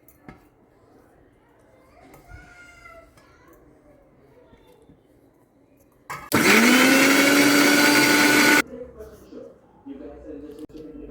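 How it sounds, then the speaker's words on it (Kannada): A mixer grinder pulses loud and close for a couple of seconds, grinding fried masala spices for Malenadu bitter gourd sasive. Quiet talk comes before and after the grinding. "ಸೊ ಇದೆಲ್ಲ ಫ್ರೈ ಮಾಡಿರೋ ಮಸಾಲೆ ಮಿಕ್ಸಿ ಜಾರ್ಗೆ ಹಾಕ್ಕೊಂಡು ನುಣ್ಣಗೆ ರುಬ್ಕೋಬೇಕು"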